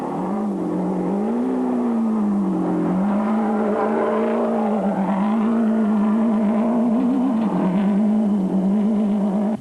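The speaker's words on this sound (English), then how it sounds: "While Variawa started to open up the taps and let her fly." A race car at the 2007 Toyota Dealer 400 accelerates hard, its engine note rising and wavering in a steady, loud roar that runs through the whole stretch.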